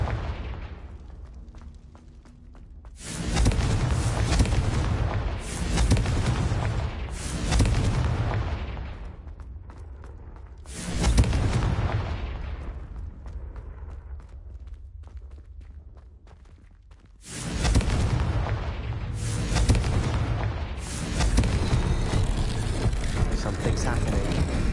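Confringo blasting spell explosions in Hogwarts Legacy, several loud booming bursts with long rumbling tails, arriving in clusters separated by quieter gaps.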